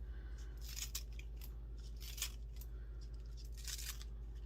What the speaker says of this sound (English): Then I'm going to cut some green onions for right in the center